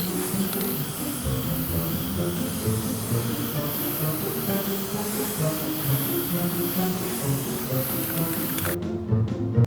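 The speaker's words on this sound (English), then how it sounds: "So now I'm gonna spray the whole thing." An aerosol spray paint can hisses continuously and steadily while coating a household trash can, close and fairly loud, cutting off just before the end.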